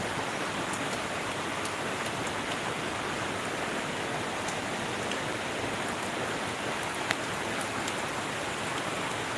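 Heavy morning monsoon rain in Kerala pours down in a dense, unbroken hiss, with scattered drops tapping on nearby surfaces.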